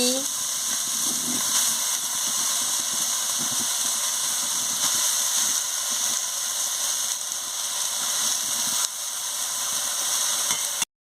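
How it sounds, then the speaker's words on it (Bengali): Shushni greens, a spinach-like leaf, tipped into a hot wok crackle and hiss in a broad, steady sizzle that holds for about eleven seconds, close and loud, then cuts off abruptly. "এবার কড়া গরম হয়ে গেছে আমি শাকটা দিয়ে দিচ্ছি"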